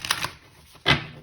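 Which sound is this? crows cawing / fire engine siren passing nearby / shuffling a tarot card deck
shuffling a tarot card deck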